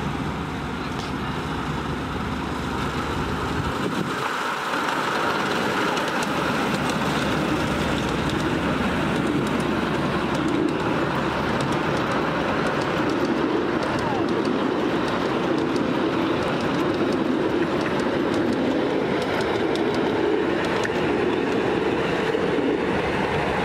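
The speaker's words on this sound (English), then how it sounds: "until the train comes" A train arrives and passes close by, a steady loud rumble of wheels and rail noise that holds throughout with faint rhythmic clatter and no talking.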